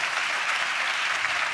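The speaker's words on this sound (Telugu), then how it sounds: "చప్పట్లు కొడుతూ దేవునికి స్తోత్రాలు" A church congregation clapping in praise of God during a sermon, a steady, dense wash of hands clapping at moderate level with no let-up.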